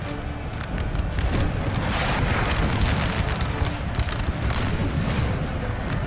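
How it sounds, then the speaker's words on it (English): Artillery scatter shot firing in Napoleon: Total War, a dense, continuous roar of booming cannon fire and crackling volleys, loud and sustained throughout without pause. "Oh, so we got scatter shot here."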